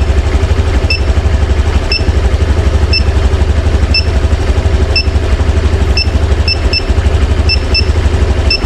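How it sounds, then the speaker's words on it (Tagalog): A high anti-theft immobilizer buzzer beeps steadily about once a second over a loud, rumbling idling Honda Genio scooter engine nearby. "Yan, tumutunog na buzzer."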